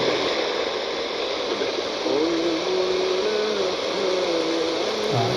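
Continuous hissing static from a SIHUADON R-108 pocket radio tuned to 540 kHz AM, with a thin wavering whistle tone drifting through the noise.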